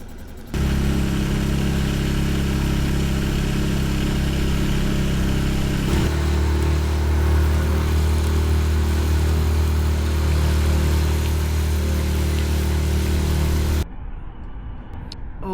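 A small boat outboard engine on an inflatable boat runs steadily at idle, a loud continuous mechanical drone with a shift in pitch partway through before it cuts off, leaving quieter background sound.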